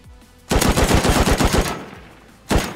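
Automatic gunfire in Rust, a rapid burst of about ten loud close shots, a brief pause, then one more shot at the end.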